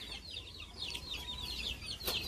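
Young chicks clucking softly in quick repeated peeps and clucks, fairly close but quiet, with no talking.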